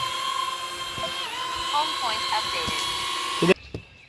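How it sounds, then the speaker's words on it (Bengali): A DJI Neo 2 drone flies away, its high whining propeller hum steady and then bending in pitch before cutting off abruptly near the end, with a few faint knocks underneath. "এই যে ড্রোনটা কিন্তু এখন উড়ে গেল"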